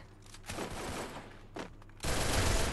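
Rapid automatic gunfire in the mobile shooter Garena Free Fire, MP40 bursts crackling loud and dense in several close volleys, with a final sustained burst at the end.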